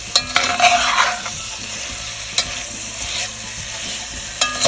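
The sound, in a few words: kielbasa hash being stirred in a cast iron skillet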